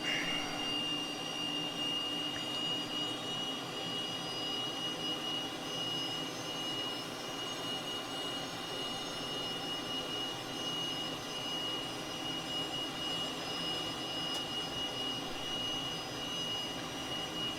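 Cessna T-37B Tweet jet idling and taxiing on the ground in Microsoft Flight Simulator: a steady, whining jet engine drone with a high tonal whistle, holding at an even level throughout with no talk.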